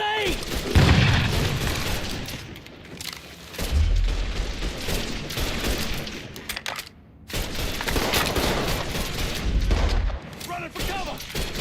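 Grenade blasts and bursts of rapid gunfire in the Mafia III shootout, loud and close, with booming explosions and shouting voices mixed through the chaotic exchange.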